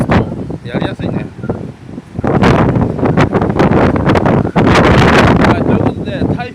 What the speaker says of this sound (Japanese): 非常にですね、風が強いです。